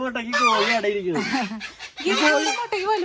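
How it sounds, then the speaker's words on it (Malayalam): Repeated clucking calls from a chicken, loud and close, in several uneven bursts with short gaps between them. "കോഴി"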